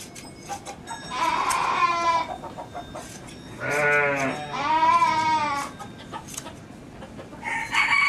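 Leicester Longwool sheep bleat loudly in a few drawn-out, wavering calls, with a rooster crowing and other farmyard sounds around them.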